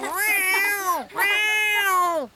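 A cartoon cat in a children's drawing show meows twice in a row, two loud, close, drawn-out cries with a brief gap between them and no other sound.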